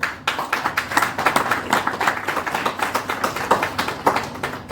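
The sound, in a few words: audience clapping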